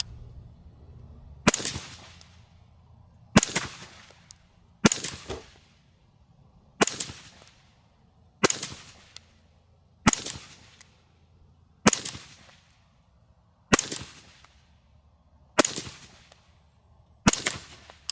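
Ten suppressed shots from a 6mm rifle with a 13.7-inch barrel and HAVIC suppressor, fired into a dirt berm outdoors; sharp, evenly spaced cracks about every two seconds, each with a short decay, no talking.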